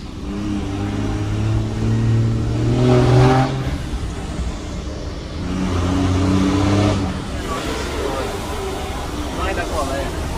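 A Mercedes-Benz 1113 truck's diesel engine revs up and eases off in two long swells, loud and close, with a rough mid-pitched drone throughout.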